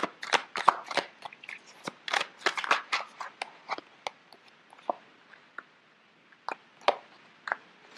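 Tarot cards shuffled by hand in quick bursts of crisp riffling and slapping, close and fairly quiet, with brief pauses between flurries and no talking.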